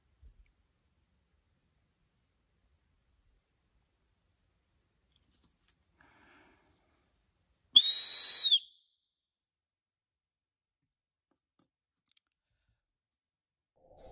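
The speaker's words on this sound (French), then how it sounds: "Je vais vous montrer le sifflet maison maintenant, comment c'est fort." A homemade survival whistle gives one short, piercing, loud blast, lasting under a second, surrounded by near silence and a few faint clicks.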